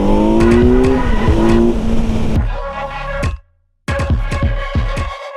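A 2021 Kawasaki Z900 naked sport bike's four-cylinder engine revs loudly with rising, climbing pitch, drops to a brief silence, then roars back with sharp throttle blips.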